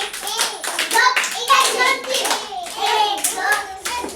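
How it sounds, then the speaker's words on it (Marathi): Children clap their hands together in a lively, uneven burst of many small, close claps that swells and dips over several seconds, with a few young voices mixed in. "टाळ्या वाजवा तिच्यासाठी."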